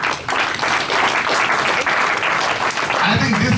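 A crowd claps steadily for a guest speaker at a Medwin event, dense and fairly loud throughout, with a voice starting to speak over it near the end.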